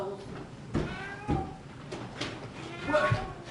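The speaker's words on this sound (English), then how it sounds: "Where did you get that cat? That kitten?" A kitten gives a couple of thin, plaintive meows amid stage speech in a theatrical play, the cries fairly faint and partly mixed with voices and shuffling sounds.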